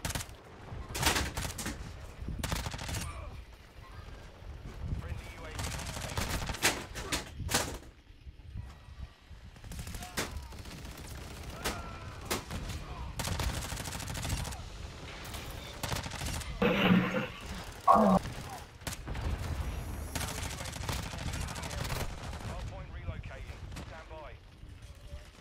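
Rapid MP5 submachine-gun bursts fire again and again in Modern Warfare II on the Shipment map, dense and loud throughout, with someone talking over the shooting.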